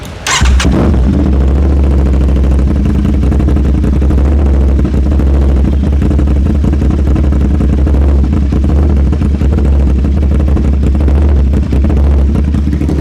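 An Aprilia RS 660 motorcycle with an SC Project full titanium exhaust starts with a sharp burst, then settles into a loud, steady, throbbing idle with a deep low rumble that holds the whole time. It is close and nobody speaks.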